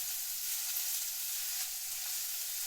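Chopped onions frying in a pan while cooking egg rice, a steady close hiss and sizzle of oil that stays even throughout, with no voices.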